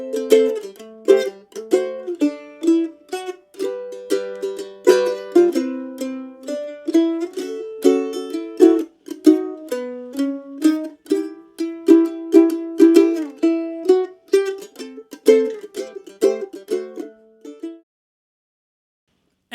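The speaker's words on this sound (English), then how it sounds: "at the end of the lesson, we're going to have a nice jazz arrangement that sounds a bit like this." Mandolin playing an advanced chord melody jazz arrangement, a bright solo of plucked chords and single notes in a flowing rhythm, close and clear for about eighteen seconds before ringing out into silence.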